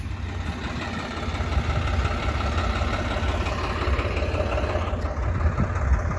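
A tractor engine works a farm field in Haryana, mixing soil after a rice harvest: a steady, loud, low diesel rumble with a continuous broadband roar and no breaks.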